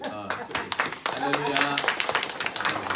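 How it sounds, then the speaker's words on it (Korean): Welcoming applause from a congregation during a Korean Sunday church service, a short burst of clapping mixed with talking voices nearby. "우리 환영의 박수."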